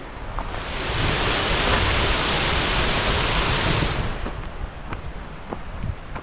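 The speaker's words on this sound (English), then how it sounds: "you follow a beautiful stream with waterfalls right the way through" A stream with waterfalls on the Llyn y Fan Fach walk in the Brecon Beacons rushes in a steady, loud broadband roar, then eases slightly, with a few faint knocks near the end.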